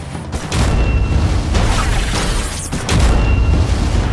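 Seismic blast in The Amazing Spider-Man 2 video game, heavy booming rumbles and crashing impacts filling the whole stretch, with a brief dip before a second loud surge, no talk.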